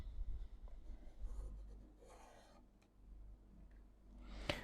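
Pen or marker writing during a grade 9 physics optics lesson, a soft continuous scratching with brief strokes, steady and close, ending in a sharper tap.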